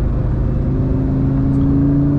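Lamborghini Gallardo engine humming steadily while driving, a close, sustained drone at moderate, even revs with no voices.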